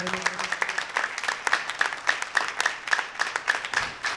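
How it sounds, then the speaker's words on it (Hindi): A church congregation claps during a sermon, with a crisp, loosely rhythmic run of applause that keeps a steady pace and swells slightly, heard fairly near with no voices on top. "ताली बजाइए कादर मुतलक के इस फरमान के बारे में।"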